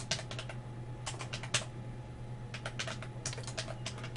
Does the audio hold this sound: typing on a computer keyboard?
yes